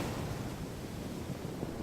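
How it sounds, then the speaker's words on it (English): Ocean wave surging as a storybook sound effect, a steady broad wash of surf and rushing water at low level with no distinct crash, holding evenly throughout. "Everyone was shocked to see Lawrence and his new friends surfing on a giant wave."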